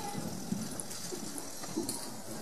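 A horse canters in an outdoor riding lesson, its hoofbeats thudding in a steady three-beat rhythm at moderate distance over a constant background hiss, with no talk.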